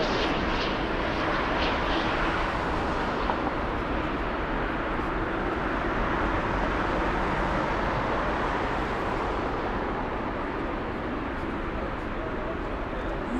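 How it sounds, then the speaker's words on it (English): A Lufthansa Airbus A340-600 arriving at Frankfurt airport makes a loud, steady jet roar that swells and fades slowly, with a person talking over it. "Now that is a plane."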